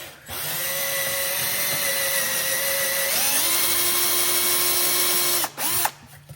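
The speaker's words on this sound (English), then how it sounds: "I just like to drill out a section and try to pry it first" A power drill whines steadily at close range, its pitch dropping as it bites into a wooden chair wedge, then stops and briefly restarts.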